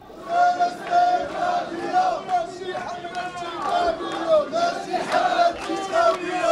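A protest crowd in Casablanca rallying for Palestine and Al-Aqsa chants in loud, rhythmic unison, voices rising and falling in repeated phrases over a busy murmur of the gathering.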